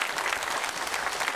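A church congregation applauds during a Sunday worship service, a dense, steady wash of many hands clapping together throughout, fairly close and even in level, with no speech over it.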